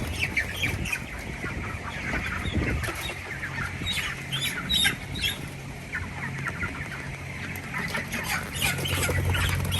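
A crowd of broiler chickens on a large poultry farm in Malaysia squawks and clucks continuously, many birds at once, with sharp cries rising over a constant rustling din.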